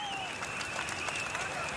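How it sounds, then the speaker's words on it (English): Roadside spectators at the Tour of Denmark applaud and cheer a passing group of racing cyclists, a steady crowd wash with some clapping heard mid-distance under broadcast noise and commentary. "the people there are cheering these riders on"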